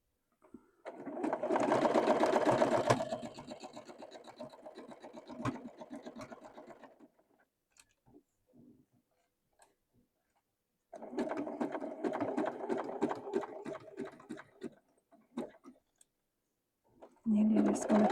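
A sewing machine stitches fabric for a lollipop ornament, whirring in two sustained runs separated by a pause, with a few short clicks and a voice talking in between.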